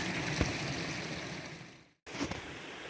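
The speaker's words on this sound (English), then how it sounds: "Wayne, stop filming the camera when you're crossing the creek. You're going to fall in." Creek water flows and rushes steadily at close range during a creek crossing, a broadband watery wash with a brief knock or splash early on, cutting out for a moment before resuming.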